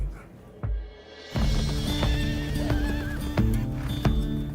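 Mustang horses whinny loudly and repeatedly, their calls layered over steady clip-clopping hooves close by, with no talking.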